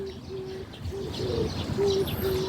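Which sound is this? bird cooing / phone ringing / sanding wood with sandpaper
bird cooing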